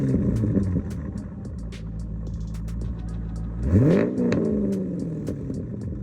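A C5 Corvette V8 fitted with an aftermarket exhaust idles with a deep burbling rumble and uneven clatter, then gives one sharp rev that climbs and falls back, with ticking and crackle around it.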